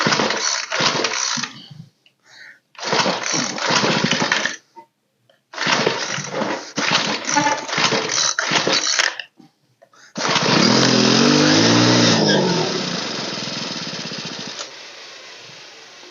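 A Craftsman string trimmer's small two-stroke engine sputtering to life in several bursts that cut out, then catching and revving loud and close when throttled up before settling back to a lower drone.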